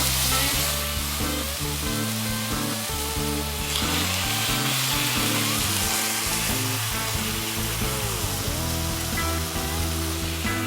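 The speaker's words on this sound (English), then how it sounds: "now it's time for the meat because my pan is smoking" Marinated shashlik meat sizzles loudly in a smoking-hot cast iron pan, a dense, continuous frying hiss with occasional stirring scrapes, close and steady throughout.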